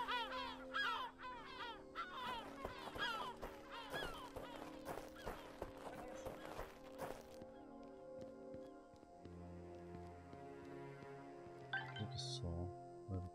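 A small bird in the survival game Jaws of Extinction gives a run of rapid, repeated chirping calls at the start, mixed with in-game clatter and later a low rumble.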